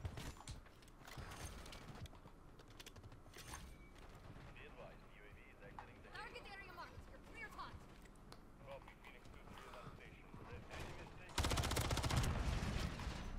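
Gunfire in a Modern Warfare 3 multiplayer match on a meat-themed map, scattered shots and bursts running under steady game noise and a player's voice, with a louder dense burst near the end.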